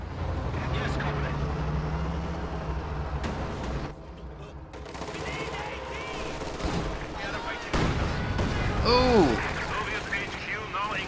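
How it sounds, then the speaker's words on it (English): Katyusha rocket barrage and exploding mines in a WWII strategy game, dense rumbling blasts and crackling fire running throughout at moderate loudness, with a short shouted exclamation from a player near the end. "Mines plus Katyusha barrage at short range did huge damage"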